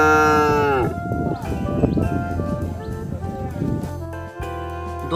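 A bull lets out one long, deep, rough moo close by, rising and holding for a few seconds between stretches of sustained musical tones.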